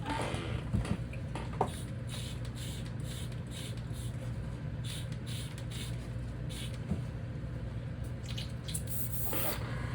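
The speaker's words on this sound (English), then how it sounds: "let me get that out of the airbrush" An airbrush sprays paint over a 3.5 inch Wake Rat fishing lure, a steady hiss running the whole time with a few brief bursts, close and fairly loud, with no one talking.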